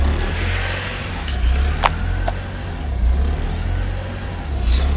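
A 1992 JDM Honda Prelude with a swapped H22A VTEC engine idles steadily, a low rumbling drone with a gentle loping surge, heard close and alone with a couple of brief clicks.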